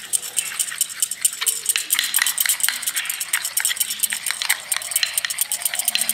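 A home remedy for cracked heels mixed together in a bowl: quick, steady clinking and scraping of a spoon against the sides, close and continuous, with no talking.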